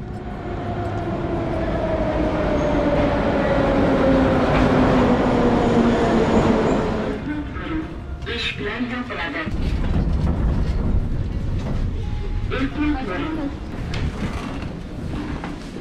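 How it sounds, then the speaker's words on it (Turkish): A Tashkent metro subway train rumbles loudly through the station, its falling whine fading as it brakes, then gives way to clattering rail noise and murmuring voices. "Metrolar baksanıza ne kadar güzel"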